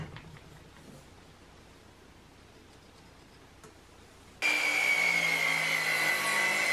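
A power saw cuts a wooden board for a queen-size bed frame. Quiet ticking comes first, then a loud, steady, high-pitched whine of the saw biting into the wood.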